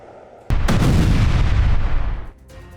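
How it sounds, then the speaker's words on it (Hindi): Air strike bombardment in southern Lebanon: a sudden loud blast erupts, followed by a long rolling roar of explosions and rumbling debris that lasts about two seconds before dropping to a lower background rumble. "लेबनान में इस तरह का एयर स्ट्राइक किया गया है, ड्रोन से हमले किए गए हैं"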